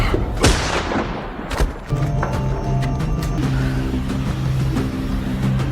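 Gunfire rings out in an action film shootout: a sharp, loud crack followed by a second blast, then a rumbling, sustained scene of low engine-like noise and tonal score.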